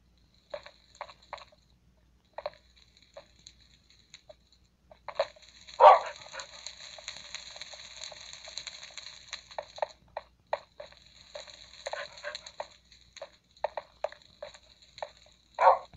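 Dogs bark and bite in a video game, heard as scattered short clicks and thuds and a couple of sharp attack bursts over a high, steady synthetic tone that rises and fades, with no talking.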